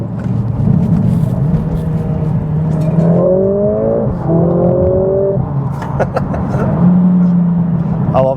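A Mercedes A45s AMG engine revs up and down close by, its rising and falling tone ending in a few small pops and bangs, with voices talking over it.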